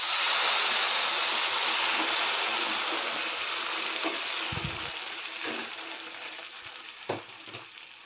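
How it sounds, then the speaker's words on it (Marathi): Hot water is poured into a pan of dalia upma, giving a loud broad hiss and sizzle that gradually fades, with a few light clinks near the end. "ते गरम पाणी यामध्ये घालते."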